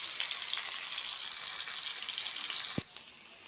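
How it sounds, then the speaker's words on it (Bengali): Minced chicken frying in a pan for momo filling, a dense hissing sizzle with stirring, close and steady, ending in a sharp knock before the sound drops away. "এরপর আমি মাংসের কিমাটা এর ভিতরে ঢেলে দিব এবং এটা ভালোভাবে নেড়ে চেড়ে একটু ভেজে নেব"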